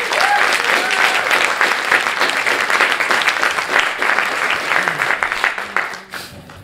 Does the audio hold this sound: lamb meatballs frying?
no